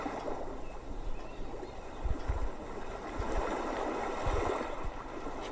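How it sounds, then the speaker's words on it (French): Ocean waves wash in and draw back continuously with a gurgling, rushing texture and a few low thumps, close and moderately loud. "de ce bruit des vagues qui vont et qui viennent"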